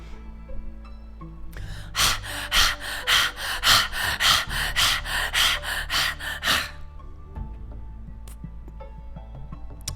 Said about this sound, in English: Breathe like a panting dog, but it's also a deep inhale. It's a deep exhale and it's a deep inhale.